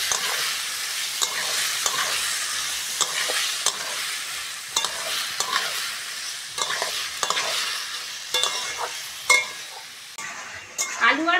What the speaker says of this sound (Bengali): আলু আর মশলা ভালো করে ভেজে নিয়েছি